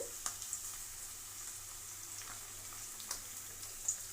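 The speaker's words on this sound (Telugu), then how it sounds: "ఇందులో కరివేపాకు వేసేద్దామండి రెండు పచ్చిమిరకాయలు అల్లం వెల్లుల్లి పేస్ట్" Curry leaves, green chilies and ginger garlic paste frying in a pan for tomato rice give a steady, quiet sizzle with a few small pops and crackles over it.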